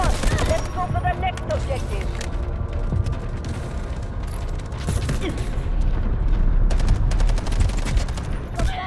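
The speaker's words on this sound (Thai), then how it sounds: "อะไรวะอะไรยิงกูสักหนาเนี่ย" Sustained gunfire in Delta Force striking the player, with rapid automatic bursts and sharp impact cracks throughout, loud and close, heaviest near the start and end.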